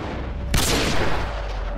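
A single sniper rifle shot in Red Dead Redemption 2 cracks out loud and close, a sharp blast whose booming tail fades over about half a second against steady background ambience.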